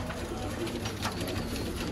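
Hundreds of Sialkoti pigeons coo softly in a busy breeder's flock, their murmuring calls overlapping against a rustling, noisy background.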